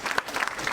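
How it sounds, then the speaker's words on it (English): Brief burst of audience applause at a birthday lecture in honour of Dele Momodu, dense clapping from a seated crowd, moderately loud and lasting under a second. "Now is when I will ask for another round of applause for Chief Olusegun Obasanjo."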